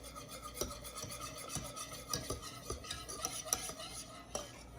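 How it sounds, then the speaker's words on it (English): Whisk scraping and stirring rhythmically in a pan of sourdough choux pastry dough made with butter, liquid and flour, close, with repeated raspy strokes and light metallic clinks. "And so you've got to keep whisking it so that it doesn't burn."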